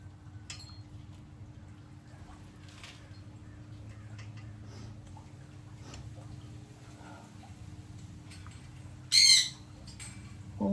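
Birds squawking outdoors at a gold panning spot, one sharp, loud squawk burst late on after a long quiet stretch with faint ticks and a steady low hum.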